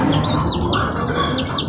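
Repeated high chirping bird calls, several quick rising and falling notes, close and clear over a steady outdoor background near a pigeon loft in Leyte.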